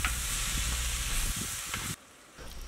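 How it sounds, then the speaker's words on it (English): Red bell pepper and tomato sizzle as they are sautéed and stirred in a pan at a campsite for a fish stew. A loud, steady frying hiss drops away abruptly near the end. "Keep on mixing and stirring until the vegetables are slightly sauté."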